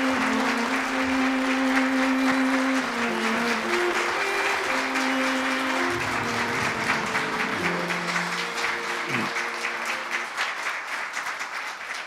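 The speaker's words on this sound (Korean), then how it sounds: "여러분 큰 박수로 맞아주십시오." Sustained applause from a large crowd at a KBS president's inauguration ceremony, steady and dense for several seconds, with sustained tones lingering underneath and tapering slightly toward the end.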